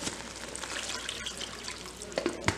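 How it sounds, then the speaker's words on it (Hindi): Water pours into a spiced curry gravy for bottle gourd kofta, a soft continuous trickle with a few sharper splashes near the end. "और इसमें हम डालेंगे पानी,"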